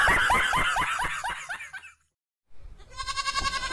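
A goat bleats in a rapid run of wavering, quavering cries, close and loud, then breaks off into a short silence before a further bleat returns at the end.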